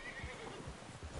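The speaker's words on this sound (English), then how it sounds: "Get a hold of that horse" A brief whinny from a horse in Red Dead Redemption 2, heard faintly over a few soft hoof clops.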